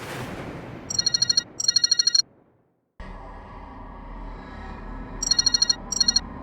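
An old, rusted telephone in a booth inside a building rings in two short bursts of trilling electronic bell tones, falls to brief silence, then rings twice again over a low hum of ambient room noise.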